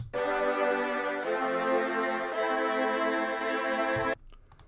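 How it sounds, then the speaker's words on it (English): A pitched sample in FL Studio treated with Gross Beat, holding a bright, rich sustained tone that pulses in volume in a few regular swells before cutting off abruptly near the end, loud and alone. "I put this gross beat on it to give it kind of a pulsating feel"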